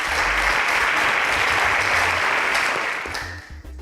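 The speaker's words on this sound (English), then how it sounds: "A round of applause for our panelists." A studio audience gives a dense, loud round of applause for a panel on a pitch-style show; the clapping holds steady, then thins out and tapers off near the end.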